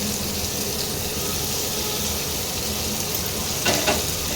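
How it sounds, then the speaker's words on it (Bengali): Chopped onions fry in hot oil for a steamed egg dish, a dense, even sizzle holding steady throughout, with a brief stirring scrape near the end. "এবার পেঁয়াজটাকে একটু ভালো করে ভাজতে হবে"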